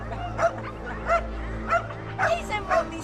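Several pet dogs let out short yips, whimpers and barks in separate bursts, about one every half second to second, fairly close, over a low background murmur.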